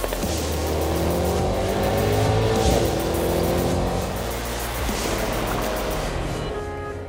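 Mercedes-AMG GT 63 S four-door coupe with a bi-turbo V8 accelerating hard, a loud sustained engine roar with tire squeal rising and falling over several seconds, close and continuous with no talking.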